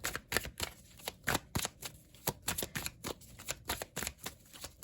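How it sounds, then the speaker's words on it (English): Tarot cards are shuffled close up in a quick run of crisp riffling bursts with short pauses between them, and no voice is heard. "Let me get a couple cards for the Hierophant"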